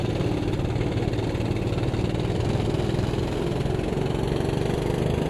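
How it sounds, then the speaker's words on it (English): A four-stroke kart engine in the racing game Automobilista 2 drones steadily at a constant pitch, loud and close, with a rough buzzing rumble throughout. "And the sounds of that 4-stroke, so good."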